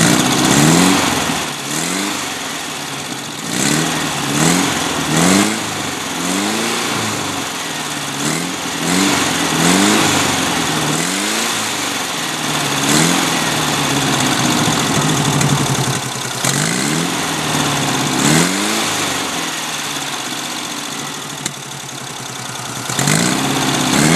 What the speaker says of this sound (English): I'm just going to rev it up a few times so you can hear the exhaust note